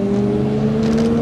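A motorcycle passes on a wet, rocky road during an electric-bike ride, giving a loud, close, steady engine drone with a faint rising hiss near the end.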